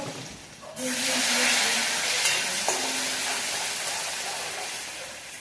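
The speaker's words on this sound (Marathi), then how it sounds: "मग हे वाटण टाकायचं त्यात. हे चांगलं परतून घ्यायचं." Spice paste of green chillies, garlic and cumin for fenugreek bhaji drops into a hot pan with a sudden loud sizzle, then keeps hissing and crackling close up while being stirred, fading slightly.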